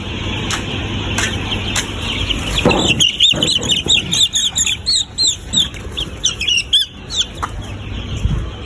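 Several layer chicks cluck in quick, repeated bursts over a constant outdoor hum, with a few sharp chirps and a brief flutter, close and moderately loud.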